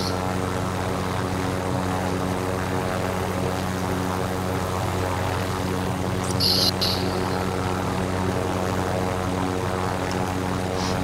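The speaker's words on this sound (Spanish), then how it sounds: "acaban de coger el helicóptero que marcaste" Helicopter in the video game Call of Duty Warzone, a steady loud rotor and engine drone sustained throughout, with a brief higher hiss partway through and no talking.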